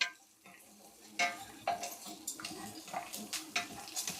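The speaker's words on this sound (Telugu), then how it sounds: "ఎండుమిర్చి కరివేపాకు ఇవి వేయించుకోవడంలోనే ఉందండి" Dried red chilies and curry leaves fry in oil while rava upma is being made. The sound is a quiet sizzle broken by sharp stirring scrapes and clinks from the pan, coming at irregular intervals.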